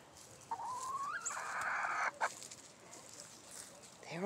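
Backyard hens and a rooster cluck softly, with a few rising, drawn-out calls and short clucks over a quiet outdoor background.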